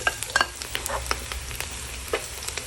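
Garlic and onion frying in oil in a pan, a steady close sizzle broken by repeated clinks and scrapes of a stirring utensil.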